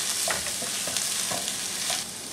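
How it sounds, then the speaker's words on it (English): Pork sausage, browned and drained, goes into a pan of onions and garlic for baked ziti and sizzles loudly up close, with repeated scraping stirs breaking through the constant hiss. "So we're gonna add that to our onions and our garlic."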